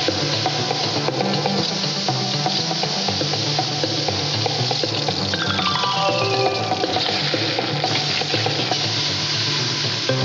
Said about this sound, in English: The rest of this commercial is just pure sizzle.